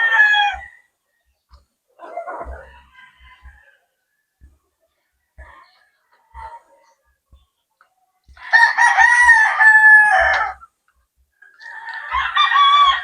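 Gamecock roosters crow loudly and close by in a backyard, with several full crows and scattered clucks from chickens between them.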